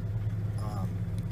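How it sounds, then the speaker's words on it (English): A GMC Sierra or Silverado truck engine idles just after starting, a steady low rumble that holds throughout. "But you can hear my truck just started up right now."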